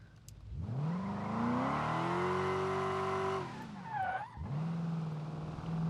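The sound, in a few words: Ford Crown Victoria racing in BeamNG video game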